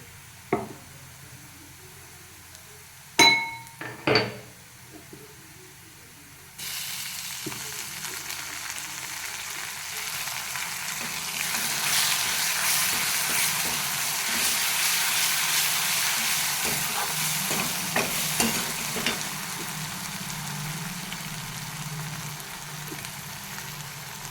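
Onions fried reddish, then green chilli paste added to the pan: a few sharp taps over quiet, then a sudden loud, steady hissing sizzle that continues to the end.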